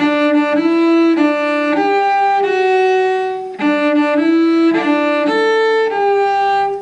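The Happy Birthday melody played on a string instrument: bright, sustained held notes, loud and alone, in two short phrases with a brief gap between.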